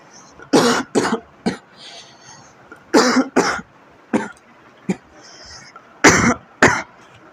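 A series of sharp coughs in short bursts, some doubled, spread across the stretch with quiet gaps between them, close and fairly loud.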